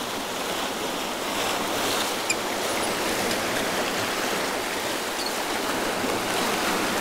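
Rushing whitewater of a big rapid on the Rogue River, a steady broadband roar that holds constant and fairly loud throughout with no voices.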